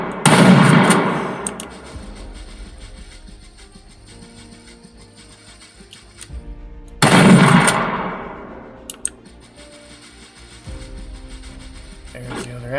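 Game Guru video game gunfire: two loud bursts of rapid shots, each ringing out into a long decaying echo, with a few sharp single cracks between them.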